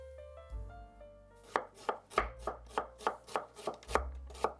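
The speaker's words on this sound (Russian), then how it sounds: "Лук режу полукольцами." A knife chops rhythmically on a cutting board, slicing an onion into half rings, about a dozen evenly spaced crisp cuts, close by, after a soft musical intro.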